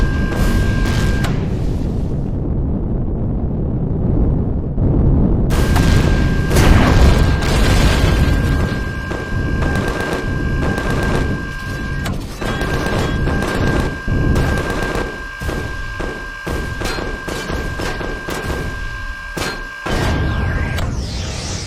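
Dense, loud gunfire and booming blasts from the space survival video game Empyrion Galactic Survival, with rapid bursts and heavy explosions running almost continuously, plus a steady electronic tone in the background.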